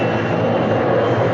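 An aircraft flying in the film Dr. Strangelove gives a loud, steady engine roar that fills the whole moment without break.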